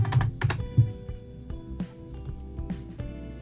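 Rapid keystrokes on a computer keyboard, a quick burst of clicks near the start followed by scattered, lighter taps, close up with no one talking.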